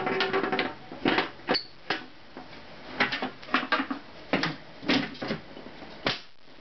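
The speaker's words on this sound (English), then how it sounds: "And now we'll put the door back on." The metal door of a Crouse-Hinds L-250 400-watt mercury vapor streetlight is fitted back on with a series of irregular close clanks, clicks and scrapes, without talk.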